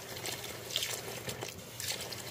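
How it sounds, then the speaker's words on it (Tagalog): Cold tap water running over chicken feet and gizzards being washed in a kitchen sink, a close, continuous splashing stream with a few brighter spatters. "Ayan, hugasan natin ng malamig na tubig."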